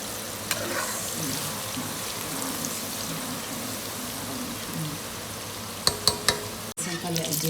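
Eggplant pieces frying in hot oil give a steady, close crackling sizzle. A few sharp clatters and a brief bump come near the end.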